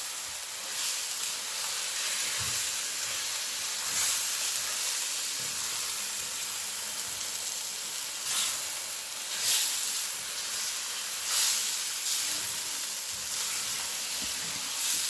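Chicken pieces fry in a pan for a chicken and potato curry, giving a steady soft hiss with occasional louder crackles and stirring scrapes, moderately close, with no talking.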